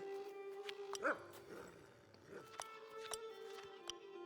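A dog in a video game gives a few short barks and yips over a steady game soundtrack with tonal music, the bursts brief and moderately loud.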